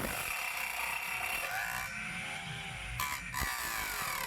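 A homemade sliding circular saw built from PVC pipe runs steadily with a continuous mechanical whir and faint rattling, holding a fairly even level throughout with a brief shift in tone partway.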